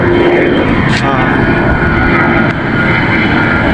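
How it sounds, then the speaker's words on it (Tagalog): Philippine Airlines airplane passing overhead, a loud steady engine roar filling the whole stretch, with a person talking over it. "Ayan, may dumadaanan ng aeroplano."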